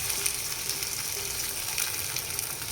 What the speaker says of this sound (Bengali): এর মধ্যে এবার বেগুনগুলোকে দিয়ে দিতে হবে, যেগুলোর মধ্যে পুর ভরা হয়েছিল সেই বেগুনগুলো। সাথে দিয়ে দেবো এই মশলাটা